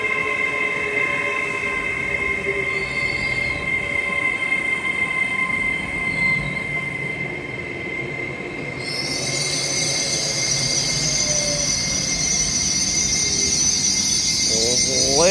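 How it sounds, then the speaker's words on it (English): An LNER passenger service runs through Newark Northgate station with a steady rolling rumble and wheel noise, joined partway by a brighter high whine, and a brief voice is heard over it. "I think that was the 1247 LNER service to Edinburgh Waverley."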